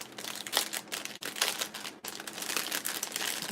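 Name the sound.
unwrapping an individually wrapped resin mold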